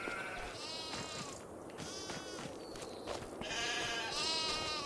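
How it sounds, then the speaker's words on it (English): Several sheep bleat on a farm croft, overlapping wavering calls at moderate distance, repeating through a few seconds with no talk. "I'm going to move the sheep from here"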